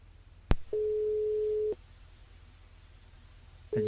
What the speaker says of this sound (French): on appelle Maël sur le standard du côté de Saint-Joseph